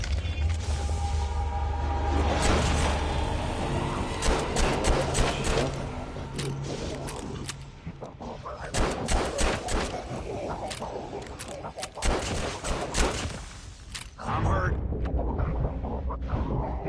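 Revolver shots crack repeatedly in Call of Duty Mobile zombies mode, a series of sharp, loud bursts in uneven clusters amid game noise, with someone talking through much of it.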